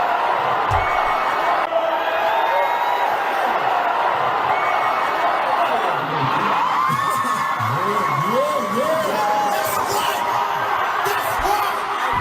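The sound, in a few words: male fans screaming at a concert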